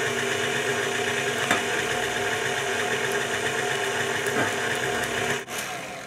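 An electric mixer whirs steadily as eggs are beaten one at a time into cheesecake batter in a bowl, a loud continuous motor hum with a few brief knocks, heard alone without talk.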